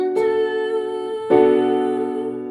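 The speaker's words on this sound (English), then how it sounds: "the 3 chord that comes from the major scale, is a minor chord, and it sounds like this" A minor iii chord built from the major scale, voiced 3-5-7-2 as a four-note seventh chord, is struck twice; each attack rings out with a sustained harmonic tone and gentle decay, played alone with no talking.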